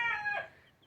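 A broody hen gives a single short, close cluck, clear against a quiet background.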